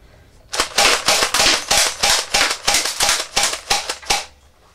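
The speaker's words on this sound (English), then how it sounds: "It'll fire as fast as you can pump." A DE M58A airsoft pump shotgun fires in a rapid string of about a dozen loud, sharp, evenly spaced cracks, each followed by a brief pump clatter, heard close with no talk.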